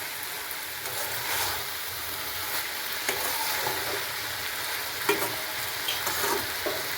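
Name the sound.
stirring fried potatoes with ginger and green chilli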